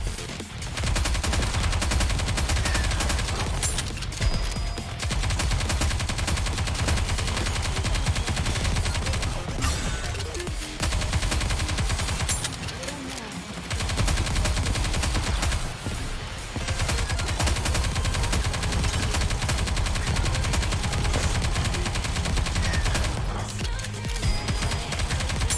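Rapid gunfire from the video game Nikke, sustained dense bursts of shots running almost continuously with a few brief pauses, loud and close throughout.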